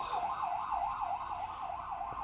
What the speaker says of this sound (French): Il y a des bruits de sirènes